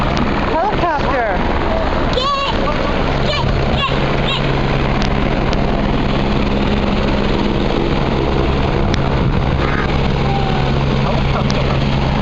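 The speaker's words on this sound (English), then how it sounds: "Helicopter." A helicopter flying overhead in Wilcox, Arizona, its loud continuous rotor drone steady throughout, with brief voices and chirping sounds over it.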